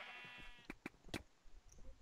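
Sheep in a Minecraft arcade match bleat in several short, sharp game-sound bursts, three quick ones close together then another, over a faint steady tone and low background noise.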